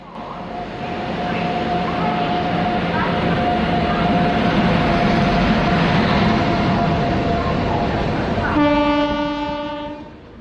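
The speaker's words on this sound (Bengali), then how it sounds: "হাওড়া থেকে ব্যাঙ্গালোর যাওয়ার এক গুরুত্বপূর্ণ train 12863 Howrah Yesvantpur superfast express" The 12863 Howrah–Yesvantpur Superfast Express rolls past at a station, a loud continuous rumble of wheels and carriages close by, with a long horn blast near the end.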